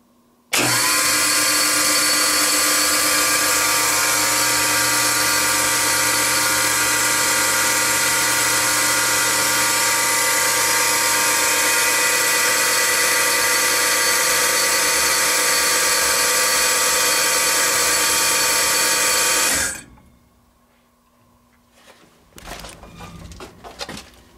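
A historic Inclinator Elevette home elevator drive machine in a private house runs with a loud, steady mechanical whir and hum for about twenty seconds, then cuts off abruptly, leaving faint clicks and handling noises close by.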